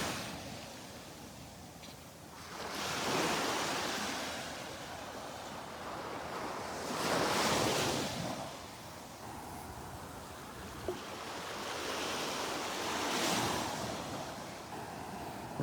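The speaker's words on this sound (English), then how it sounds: "The water's starting to pull what shells were up here on the beach back into the water as the tide comes in." Ocean surf at Delnor-Wiggins beach with the incoming tide, rolling in as three broad swells that build and recede, steady wash and wind noise between, no voices.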